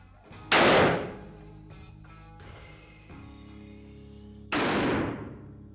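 An Old West sawn-off shotgun fires two loud, sharp blasts a few seconds apart, each with a brief decaying echo, separated by quieter handling noise and faint clicks.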